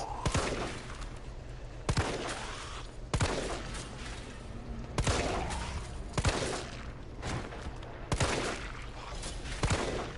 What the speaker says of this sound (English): Let's go ahead and shoot these guys and get rid of them.